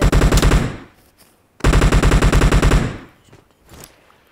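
Automatic gunfire in PUBG Mobile arena training: two rapid bursts of loud, closely spaced shots, each lasting about a second, with quiet gaps and faint game sounds between them.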